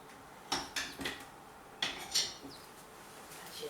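A sticky metal mixer beater is dropped into the wash among dishes, giving four or five sharp clinks and clatters in two quick bursts, close and fairly quiet in a home kitchen, with no talk.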